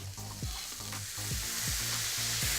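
Paella rice sizzles in a hot pan while being stirred, with rhythmic scraping strokes about every half second over a constant close frying hiss.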